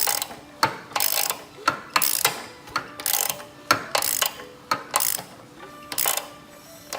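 A 3/4 inch socket ratchet turning over a Corvair engine gives repeated clicking ratchet strokes in an uneven rhythm, close and fairly loud, with mechanical whirring between pulls and no talk.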